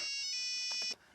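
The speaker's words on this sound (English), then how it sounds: "Some make bleeping noises like this." A steady, high-pitched electronic alarm tone sounds continuously for about a second, then cuts off abruptly.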